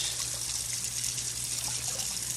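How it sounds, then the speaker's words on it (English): Water pours steadily off a pot of cooked rice while the stew meal is being prepared, making a constant close splashing rush with no pauses and no talking. "you pour that rice water off"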